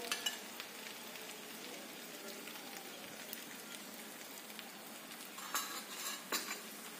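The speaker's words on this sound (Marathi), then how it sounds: "आता वरतून आपण एक चमचा यावरती तेल सोडून घेणार आहोत" Thalipeeth frying on a pan with a spoonful of oil poured over it gives a steady, close crackling sizzle that runs evenly throughout, with a few brighter pops near the end and no voices.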